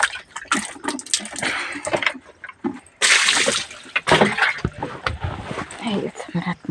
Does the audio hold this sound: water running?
yes